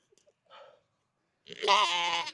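A young buck goat lets out a short faint bleat, then a louder, longer, wavering bleat close by, with no talking over it.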